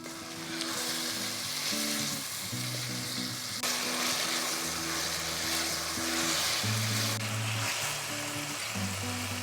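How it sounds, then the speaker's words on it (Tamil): A pan of Sri Lankan-style eggplant curry bubbles and sizzles steadily up close, a continuous frying hiss with low popping throughout and no talking. "நான் கொஞ்சம் தண்ணி ஊற்றி கொதிக்க விட போகிறேன்"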